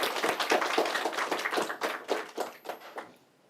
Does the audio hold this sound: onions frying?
no